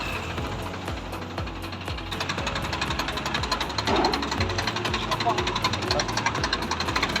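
A tractor engine runs steadily close by, a loud rhythmic diesel chugging and knocking that grows a little louder partway through, with a roadside stop while travelling by lift.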